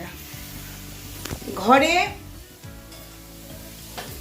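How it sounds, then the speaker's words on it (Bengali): Potatoes and eggplant fry in a pan, giving a continuous sizzle with a brief louder hiss midway, while a person talks over it. "আবার এখানে একটু আলু ভাজা হচ্ছে, আর তার সঙ্গে বেগুন ভাজা।"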